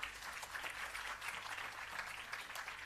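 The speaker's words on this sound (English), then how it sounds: "Another round of applause." Audience applause at the Bureau of Standards Jamaica public relations campaign launch: a steady, dense wash of many hands clapping that carries on for the whole stretch without a break or any voices.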